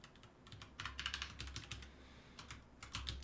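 Quick, uneven clicks of fingers typing on a computer keyboard during a Windows desktop programming lesson, close and quiet, with short pauses between bursts of keystrokes.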